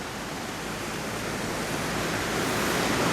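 High creek water rushes and a conduit drains into it, making a dense, continuous roar of flowing water that swells slightly louder toward the end.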